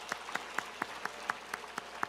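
A church congregation claps hands in a steady rhythm of about nine sharp, evenly spaced claps, fairly faint and without talk.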